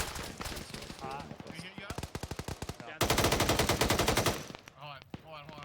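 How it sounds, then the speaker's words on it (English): Machine gun fire during a military field training exercise comes in rapid, loud repeated bursts, building to a sustained dense volley midway. Brief voices are heard between bursts. "Alpha's taking fire from machine gun about one."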